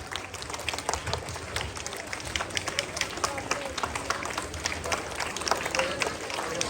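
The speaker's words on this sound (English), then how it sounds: "encourage our students with your great claps, with a huge round of applause" Students at a school appreciation ceremony applauding with a dense, steady round of clapping throughout, broad crowd noise filling the room without pause.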